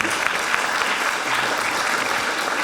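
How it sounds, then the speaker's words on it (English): Steady audience applause for a conference panel on history and twenty-first-century challenges, a dense, even wash of many hands clapping at moderate level throughout, with no one speaking over it. "please, a round of applause for panelists working in very difficult circumstances."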